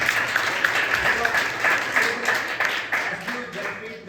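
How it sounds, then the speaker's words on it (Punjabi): Audience applause for a student speaker at a district-level youth village council competition at a government senior secondary school, steady clapping from a crowd filling the room at an even level throughout. "ਇਸ ਵਾਸਤੇ ਇਸ ਲੜਕੀ ਨੂੰ ਸਪੈਸ਼ਲ ਤਾਰੀਆਂ ਮਿਲਿਆ"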